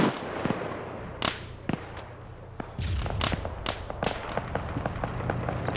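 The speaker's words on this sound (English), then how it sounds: "More SPG 9s firing." SPG-9 recoilless guns firing in a video game: a series of sharp, loud cracking blasts, some near and some farther off, spaced irregularly over a low rumbling battlefield background.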